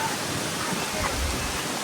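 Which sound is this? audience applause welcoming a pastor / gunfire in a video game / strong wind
strong wind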